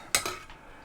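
A spoon scrapes and clinks inside a container while scooping kumquatcello pulp, giving a sharp close knock followed by a second softer scrape, then a quiet room.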